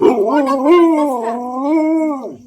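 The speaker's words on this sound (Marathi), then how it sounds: "हा तरी लागलाय भुंकायला" A single dog lets out one long, wavering howl, close and loud, lasting about two seconds and rising and falling in pitch before it cuts off.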